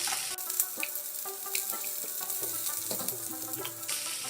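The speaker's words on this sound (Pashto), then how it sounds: "پیاز سوتې شول او اوس پکې موږ اوږه ایډ کړو" Onions sizzle steadily in oil in a pan for capsicum chutney, a close, continuous frying hiss with light clinks of stirring and no talking.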